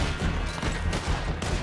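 Rapid, loud gunfire from a Red Dead Redemption 2 shootout, dense overlapping shots and bursts crackling continuously without pause, sounding like a close fusillade.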